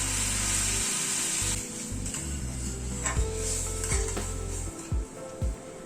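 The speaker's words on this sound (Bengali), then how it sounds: "এবার গরম জলটা অ্যাড করে দিচ্ছি।" Mustard paste frying in hot oil for a fish curry sizzles steadily as hot water goes in, with a few sharp scraping and stirring knocks of a utensil against the pan in the second half.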